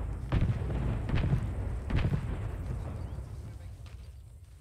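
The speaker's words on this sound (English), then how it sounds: "Rocket artillery." Rocket artillery explodes in the military game ArmA 3, with three dull, distant booms about a second apart, each fading into a low rumble, followed by a quieter stretch.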